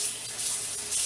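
Tap water running into a sink while a tablespoon is rinsed, a steady hissing stream that is close and constant, with no voices.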